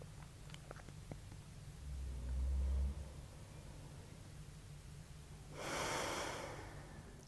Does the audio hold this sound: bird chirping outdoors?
no